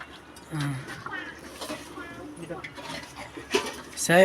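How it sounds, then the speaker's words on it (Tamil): Turkey biryani with yogurt and ghee being stirred in a pot, with intermittent scraping and clanks of a spoon against metal, close, under speech. "நல்லா ஒரு தடவை கிண்டிக்கிறோம் நல்லா அந்த தயிர் எல்லாத்துலேயும் சேர்ற மாதிரி இந்த நெய்யும் சேர்ற மாதிரி ஒரு கிண்டு கிண்டிக்கலாம்"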